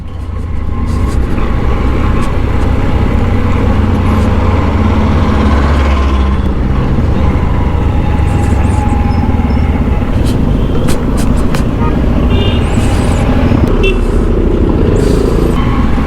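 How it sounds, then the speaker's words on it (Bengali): A 125cc motorcycle descends a steep road near Darjeeling in first and second gear under engine braking, with a loud, constant engine drone and rushing wind noise close by. "ফার্স্ট গিয়ারে আর সেকেন্ড গিয়ারে গাড়িটাকে নামাতে হচ্ছে খালি ইঞ্জিন ব্রেকের এতে।"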